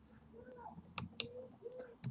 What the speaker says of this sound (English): Typing this into the calculator